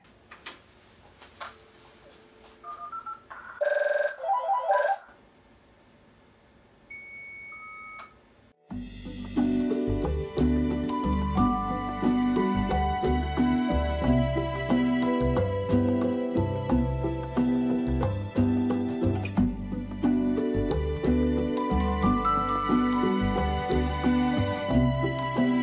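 Micromodem 2E modem dialing out, a few short dial tones and clicks followed by a long, loud, steady run of layered handshake and carrier tones that continues to the end.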